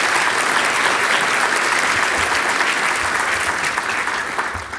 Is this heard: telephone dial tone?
no